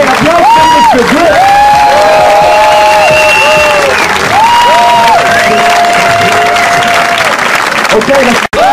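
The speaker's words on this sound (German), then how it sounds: "Applaus für mich für Glück" A crowd at a freestyle event in Germany applauds loudly, with shouts and drawn-out cheers carrying over the continuous clapping from start to finish.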